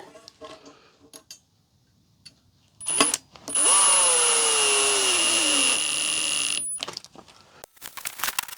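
A small drill runs in one sustained burst of about three seconds, whining and slowing slightly under load while building a wooden apple-press bucket, with scattered clicks and knocks of handling before and after.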